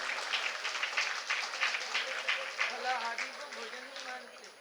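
An audience claps at a religious sermon, producing sustained, fairly even applause of many hands throughout, with a voice speaking underneath.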